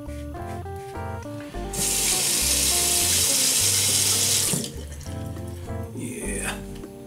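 A tap gushes to wet a razor for a shave, a steady, fairly close rush of water lasting about three seconds between quieter stretches of background music.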